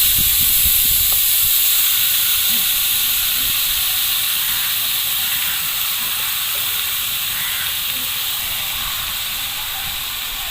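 Small marinated chanda fish hit a hot oiled wok and give off a loud, continuous sizzling hiss that fades only slightly over ten seconds, with light clatter underneath.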